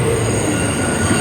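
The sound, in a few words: Q subway train to Manhattan, wheels squealing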